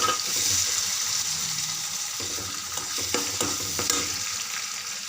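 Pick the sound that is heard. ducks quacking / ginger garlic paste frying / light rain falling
ginger garlic paste frying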